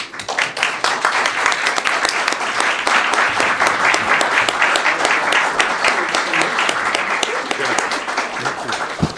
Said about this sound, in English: Angela Blackwell a round of applause for her great facilitation, great summary